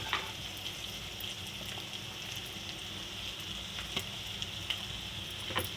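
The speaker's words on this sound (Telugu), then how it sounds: "ఉల్లిపాయలు మగ్గుతున్నాయండి" Onions and green chillies frying in oil in a pan give off a soft, even sizzling hiss that runs steadily throughout, with a few faint crackles and no voices.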